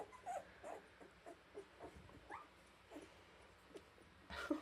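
Tiny newborn puppies whimpering and squeaking in short, faint, scattered yips and whines close by, with small rustles of movement and a brief louder cluster at the end.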